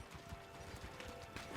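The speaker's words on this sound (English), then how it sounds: "Since you're gonna explore the world on horseback, riding needs to feel seamless, natural, and just fun." Horse hooves clip-clop at a quick, even trot on firm ground in The Witcher 4 Unreal Engine 5 tech demo, moderately close under a soft ambient bed.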